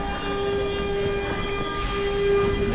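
A Mexico City Metro train rumbles and hums as it pulls away from the station, with a steady motor whine and rising rolling noise, heard close by and without talk.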